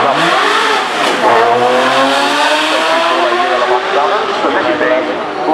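A car at the Goodwood Festival of Speed 2019 revs and accelerates hard up the hill with rising pitch, loud and continuous, with crowd or commentary noise mixed underneath.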